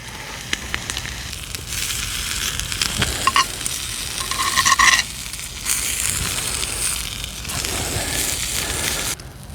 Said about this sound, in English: I'll just switch places with the ham and the flatbread to get this a bit more cooked